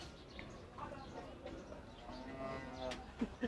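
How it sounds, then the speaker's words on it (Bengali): Water buffalo at Gabtoli cattle market in Dhaka, low lowing calls amid crowd murmur and market bustle, with people talking nearby. "আপনারা দুইটা মহিষ দেখতে পাচ্ছেন"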